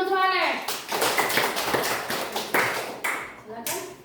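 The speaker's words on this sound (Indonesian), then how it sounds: "Iya, tepuk tangan untuk Alex." Schoolchildren in a classroom clap for a classmate, a brisk, fairly close burst of hand claps with a bright tapping texture, briefly bracketed by a voice at the start and end.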